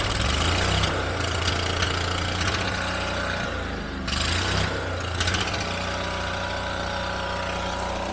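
A cooler engine runs at a loud, steady idle up close, a constant low drone with mechanical clatter that carries through the whole stretch, with a brief dip near the middle, in a workshop where a mini dozer blade is being welded.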